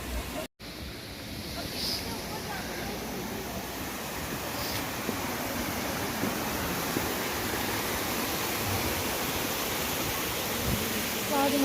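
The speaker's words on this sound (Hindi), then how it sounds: "किवाई वाटरफॉल।" Kiwai waterfall near Shogran roars as a steady, dense broadband rush of falling water, loud and continuous throughout with no pauses.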